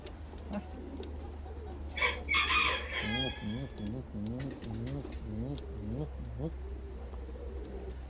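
Ottoman Hünkari pouter pigeons coo in rhythmic, repeated rising-and-falling phrases close by, after a brief burst of wing flutter, with a low steady hum underneath.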